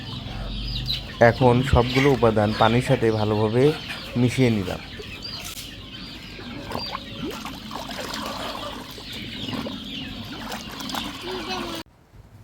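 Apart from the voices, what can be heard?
native chickens clucking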